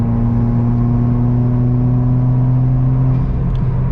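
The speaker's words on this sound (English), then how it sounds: "I hope the GoPro picks up the exhaust notes of this" Modified Subaru WRX all-wheel-drive turbocharged car driven on the road, a steady loud droning exhaust and induction hum with a sustained low tone from inside the cabin, no talking.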